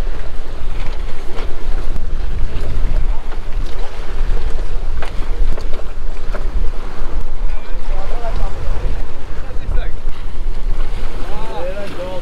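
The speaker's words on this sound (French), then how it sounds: "On est face au vent, messieurs." Strong wind buffets a sailboat heading into the wind on an Atlantic crossing between Porto Santo and Madeira, a steady loud rush with waves and water washing around the hull throughout.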